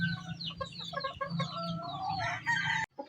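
Roosters crow and hens cluck continuously, fairly close and loud, with overlapping calls filling the whole stretch before a brief drop at the end.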